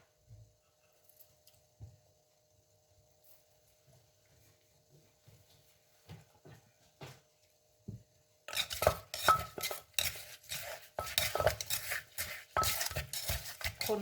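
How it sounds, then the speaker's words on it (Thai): A dish seasoned with whole lime pieces and fermented fish sauce (pla ra) is stirred in a bowl, bringing a burst of busy clinking and scraping after a quieter stretch of faint taps, continuing steadily and fairly close. "คน ๆ ให้เข้ากัน"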